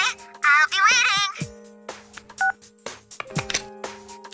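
Persona 4 video game phone sounds: a burst of warbling electronic tones followed by short beeping call and hang-up tones, sharp and clear over quiet game music.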